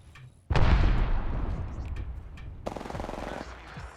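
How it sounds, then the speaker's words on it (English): A thermite grenade in a video game goes off with a sudden loud burst, followed by a sustained roaring crackle and sizzle and a second rougher burning surge that continues to the end. "Throwing thermite grenade."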